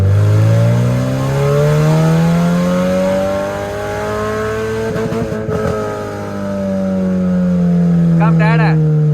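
Car engine revving in smooth rising and falling sweeps during a test run after a restoration build, loud and close, with brief chatter near the end.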